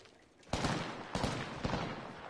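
Three loud, distinct bursts of gunfire from a PS4 shooter land about half a second apart, each with a short decaying tail over a low background.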